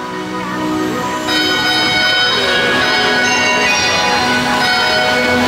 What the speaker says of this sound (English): Oh, I like the chimes.